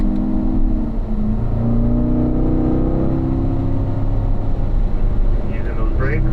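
A race car pulls hard in fourth gear on a track, its engine droning loudly and steadily from close by, with a voice talking over it.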